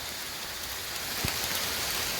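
Rain falls steadily on a mountain hiking trail on Mount Salak, a soft continuous hiss of drops with no voices, one brief low thump partway through.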